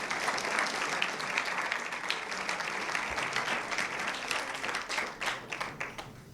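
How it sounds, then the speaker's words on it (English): Room-filling applause from parents and players at a football team mother-son brunch, steady clapping that thins out toward the end with individual claps becoming audible. "So round of applause for everybody, please."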